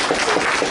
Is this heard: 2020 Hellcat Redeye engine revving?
no